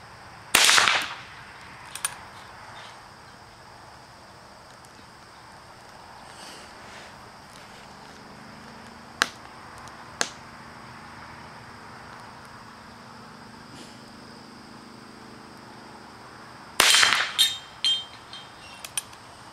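A Ruger Single Six revolver fitted with a scope fires outdoors, two loud sharp shots well apart near the start and end, with a few faint clicks and knocks between in quiet surroundings.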